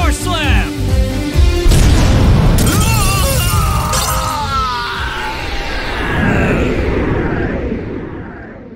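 Shooting Star Dragon's Falling Star Slam attack in Yu-Gi-Oh! Duel Links: a loud burst of booming, shattering impacts and whooshing effects under a dramatic roaring voice, fading into a long ringing decay.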